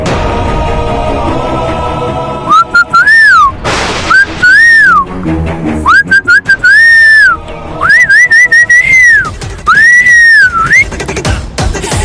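Boys whistle loudly in a series of rising and falling wolf-whistle phrases, some short and some drawn out, over a low background.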